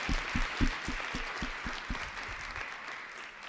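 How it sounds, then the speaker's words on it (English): An audience at a learner-led gender-based violence prevention dialogue applauds, with a run of sharp, fairly regular claps that fade out over a few seconds beneath a diffuse crowd clatter. "could you please give a round of applause to the speakers before me, please?"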